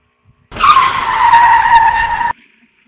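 Tires squeal in a loud, sustained skid lasting about two seconds in PUBG Mobile, with a high screeching tone over engine noise, then stopping abruptly.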